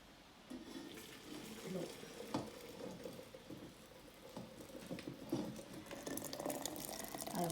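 Hot water pours into a teapot for Moroccan mint tea in a steady, bubbling splash that runs for several seconds, with a faint voice in the background.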